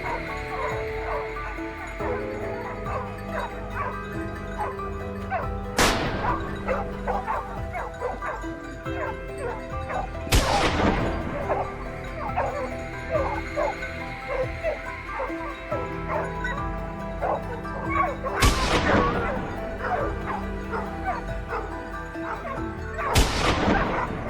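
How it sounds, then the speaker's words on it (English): Pack of hunting dogs barking and yelping while cornering a wild boar on a frozen, snowy mountain, a continuous chorus of overlapping yips and barks with occasional sharp louder bursts. "The pack of hunting dogs operated at full capacity,"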